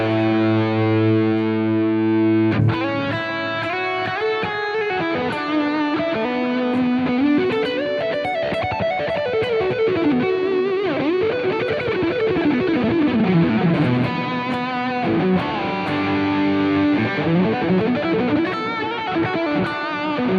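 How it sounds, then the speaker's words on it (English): A Gibson Les Paul electric guitar in Murphy Lab Lemonburst finish plays through a high-gain gearbox tone, a thick distorted sustained chord followed by fast melodic riffs and bends, loud and continuous with no talking. "tone number 4 is the gearbox, which is the high gain stuff you're hearing."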